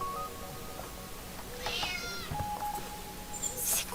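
A cat meows a few times in the game Dordogne, short, fairly clear cries set against a soft ambient background.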